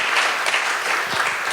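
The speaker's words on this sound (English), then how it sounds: "So let's give another round of applause for all these great souls." Brief burst of audience applause at an ISKCON Chicago community appreciation gathering, a dense, even wash of many hands clapping indoors, moderately loud, with no speech.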